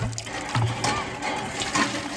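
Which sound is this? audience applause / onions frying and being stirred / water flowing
water flowing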